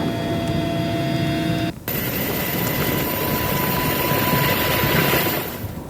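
An Indonesian Air Force aircraft engine, kept on standby for forest and land fire response in Kalimantan, roars in a loud continuous whine and rumble with a brief dip near the start, then holds steady before easing at the end.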